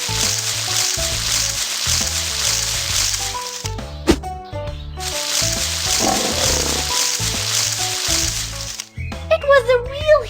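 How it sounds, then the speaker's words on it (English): A cartoon lion roars in a Wizard of Oz children's game, the growl rising over a bouncy music score with sound effects, loud and close, ending in a brief swirl of chimes. "It was a real huge and scary lion."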